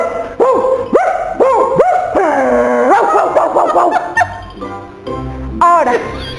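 A voice imitates a big dog barking during a home-learning lesson, giving loud, drawn-out woof and howl-like calls in a quick repeated series, close and clear.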